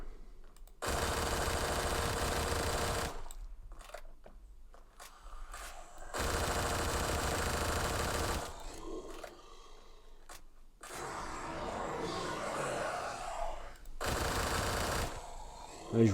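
Gunfire from a weapon in the Roblox video game, long sustained bursts of rapid automatic fire separated by short pauses, loud and close, with a player's voice talking in a gap.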